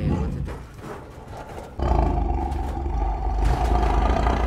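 A tiger roars inside the video game Dr. Langeskov, a deep rumbling growl that swells louder partway through and holds, heavy and close, with clattering noise beneath and no talk.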